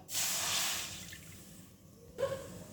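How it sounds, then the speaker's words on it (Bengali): Water from a measuring cup is poured into a pan in one close, hissing splash lasting about two seconds, followed by quieter trickling and a brief bubbling sound. "সেই মেজারিং কাপের এই 1 কাপ মেপে আমি ফার্স্টে জল দিয়ে দেবো।"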